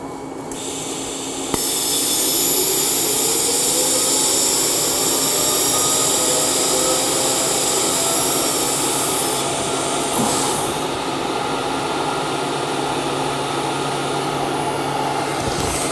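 A tack weld is made on thin titanium at around 35 amps under shielding gas, producing a loud, steady buzzing hiss that starts abruptly and holds for over ten seconds, with no talking.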